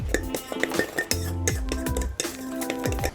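A utensil stirs brown sugar and salt together in a bowl, producing repeated clinks and scrapes against the bowl in an uneven rhythm, close and fairly loud, with no talking.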